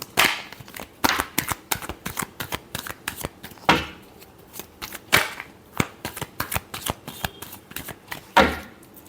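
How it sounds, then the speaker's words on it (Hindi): Tarot cards being shuffled during a love reading: a steady patter of quick, crisp riffling clicks in dense clusters, with a few louder slaps of the deck, close up and with no voices. "Last shuffle."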